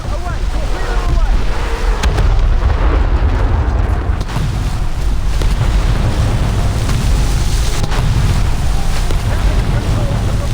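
Naval battle in War Thunder Mobile with a torpedo launch and gunfire under constant loud wind and sea rumble, dense low booms and broadband noise throughout, with faint talk in the mix.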